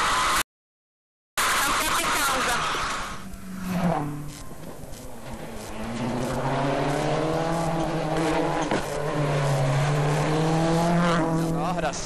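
A Marcus Gronholm rally car on a tarmac stage at the 2006 Rally of Spain approaches the stage end. The engine rises and falls steadily through gear changes, growing louder and closer, with no talk over it.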